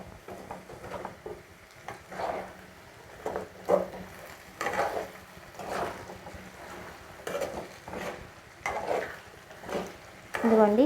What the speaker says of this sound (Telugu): ఇదిగోండి, ఇలా విడివిడిగా వేగుతాయి. కొంచెం ఆయిల్ ఎక్కువగానే పట్టిద్దండి.